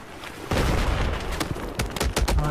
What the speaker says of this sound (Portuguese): Ai, tem alguém atirando.